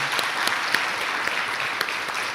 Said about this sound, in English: we should really give our panelists a nice round of applause